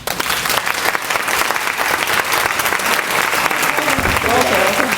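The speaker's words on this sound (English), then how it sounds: "how about a big round of applause for Judith?" Audience at a women's conference in Ottawa giving loud, sustained applause after a talk, with a voice speaking over the clapping near the end.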